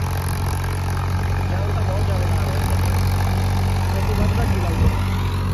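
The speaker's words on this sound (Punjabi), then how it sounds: "ਟਰੈਕਟਰ ਜਾਣ ਲਾ ਰਿਹਾ ਕਿ ਨਾ" A Ford 3600 tractor engine labouring under load with its tyres sinking into soil, a loud, steady low diesel drone that holds throughout without pause, close to the listener.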